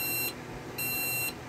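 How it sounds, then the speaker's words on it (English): A KMC E 64659 alarm clock sounds its alarm, two shrill electronic beeps of about half a second each, separated by a short gap, loud and close with no talking. "It has a slightly different type of beeper than the other clocks"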